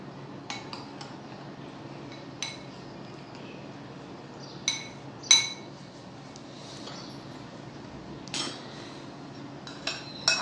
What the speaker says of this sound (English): I'm going to mix it little.